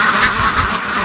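Muscovy ducks quacking up close in a snowstorm, a brief loud burst of rough, overlapping calls.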